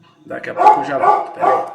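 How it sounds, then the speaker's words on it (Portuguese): A dog barks a few times close by, the barks running under and between a man's spoken Portuguese. "Olha o cachorro latindo."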